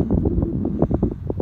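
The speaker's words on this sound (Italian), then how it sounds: "Inutile che parlo perché c'è il vento" Steady low wind rumble buffets the microphone on a mountain summit, dense and continuous, with no voices.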